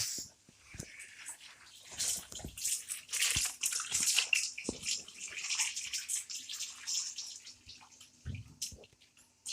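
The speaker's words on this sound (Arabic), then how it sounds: "اشطفهم برضو تاني." Tap water runs and splashes in a kitchen sink while food is rinsed, a fluctuating hiss broken by drips, knocks and sloshes, moderately close with no talking.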